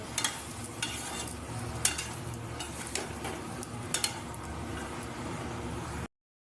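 Potatoes and spices stir and fry in oil in a pan, giving a continuous soft sizzle broken by scraping and light clinks of a utensil against the pan, close and steady until it cuts off abruptly.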